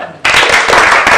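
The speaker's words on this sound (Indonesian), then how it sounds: "tepuk tangan" A small crowd bursts into applause at a café launch, a sudden loud, dense clatter of clapping hands that kicks in after a brief murmur and keeps going steadily to the end.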